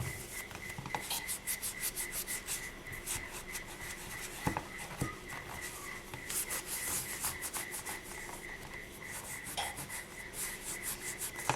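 Close, steady rubbing and scrubbing strokes across the surface of a mixed-media polymer clay bowl, a continuous rhythmic rasp with a few sharper scrapes and no talking.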